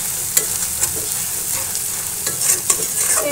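Spices with turmeric, coriander and dry chili powder sizzle loudly in oil, with intermittent scraping stirs and clicks over a continuous frying hiss.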